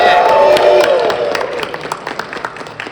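A crowd at a PAX East gaming convention panel cheers and applauds, loud and dense at first, then thinning into scattered claps and whoops.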